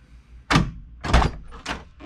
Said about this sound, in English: He's testing the door code right now.